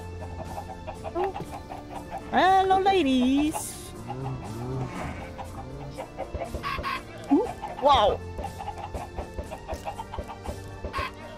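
Minecraft chickens cluck and squawk in short bursts, fairly close, while a person talks over them in a Minecraft OneBlock game.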